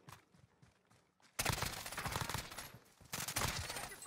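Bursts of rapid automatic gunfire in the video game Warzone, rattling in loud, close volleys after a quieter opening of faint, distant shots.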